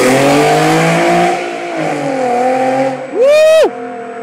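Infiniti G37 fitted with an HKS HiPower exhaust revs loudly nearby, engine note rising and falling through a sustained roar before a sharp high rev spike near the end.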